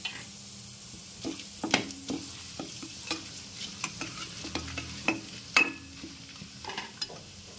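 Whole spices (cinnamon, cloves, shahi jeera and bay leaves) fry in a pan for an egg masala curry, with a soft, steady sizzle under repeated light stirring clicks and scrapes of a spoon.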